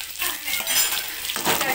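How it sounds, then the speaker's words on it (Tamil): Onion, curry leaves, green and dried chillies and ginger dropped into hot oil for mor kuzhambu, a close bright sizzle with clinks and stirring scrapes that swells again toward the end, no talking. "இப்போ நம்ம எடுத்து வச்சுருக்க வெங்காயம், கருவேப்பிலை, பச்சை மிளகாய், காஞ்ச மிளகாய், இஞ்சி, இது எல்லாத்தையும் ஆட் பண்ணிக்கலாம்."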